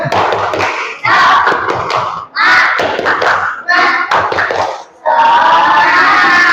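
A primary-school class performs the "tepuk semangat" cheer, loud bursts of rhythmic group clapping and chanting split by brief pauses, close and energetic.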